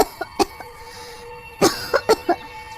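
A woman sick with fever coughs hard: a couple of short coughs, a pause, then a loud fit of four coughs in quick succession, up close with no talking.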